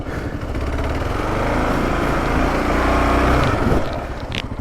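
A KLR650 motorcycle revs hard off-road as its rear tire spins in dirt; the engine drone swells steadily, holds loud, then drops off near the end.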